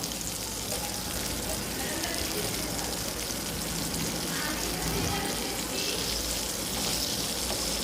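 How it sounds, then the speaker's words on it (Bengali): Raw mango pickle cooks in hot oil with a steady, dense sizzle and crackle that runs the whole time without a break, and it is fairly close and even in level. "লবণ দেওয়ার পর আমি তিন থেকে চার মিনিট এভাবে রান্না করব গরম তেলে"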